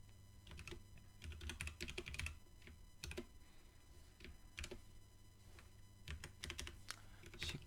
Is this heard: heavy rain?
no